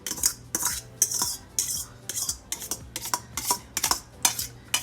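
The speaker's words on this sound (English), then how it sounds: "I'm just going to stir all this in" Angel hair pasta is stirred through chicken in a crockpot with a utensil, producing about a dozen close, sharp scrapes and clinks against the pot in a loose, steady rhythm.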